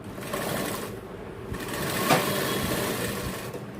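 A sewing machine runs continuously at close range, double stitching a jacket in a tailoring shop, with a steady loud whir and a brief dip in speed partway through.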